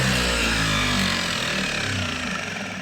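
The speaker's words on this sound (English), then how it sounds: "turn the starter motor on with a simple push of the ignition switch" A Farmall tractor starter motor spins steadily under power, a loud, continuous mechanical whir and drone close by, with no break across the few seconds.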